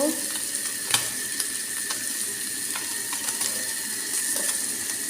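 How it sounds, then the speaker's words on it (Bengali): Puti fish frying in a pan, a continuous close sizzle with clicks and scrapes as the pieces are turned over. "আমি ভালো করে মাছগুলো উল্টা পাল্টা করে নিব।"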